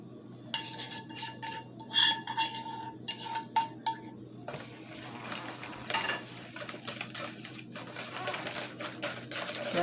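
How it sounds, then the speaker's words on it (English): Egg and melted butter are stirred in a bowl for pineapple muffin batter, with quick rhythmic clinks and scrapes of a utensil against the bowl, close and fairly loud, softening into lighter scraping later. "Just gonna stir my egg up a little. Then I'm gonna add my melted butter."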